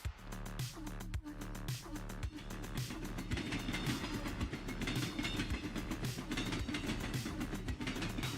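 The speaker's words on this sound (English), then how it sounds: "That's our train." A video game train rumbles and clatters past with a steady, heavy roar and rhythmic clicking, loud and close, with no talking.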